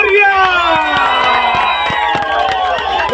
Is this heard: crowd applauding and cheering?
yes